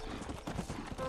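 Hooves clip-clop in quick rhythm as a tired horse moves in Red Dead Redemption multiplayer, steady close footfalls running through the whole short moment.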